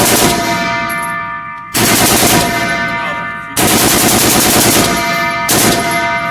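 Heavy machine gun fired at the Tank Town USA range: three long sustained bursts of rapid, loud, close automatic fire with brief gaps between them and no talking.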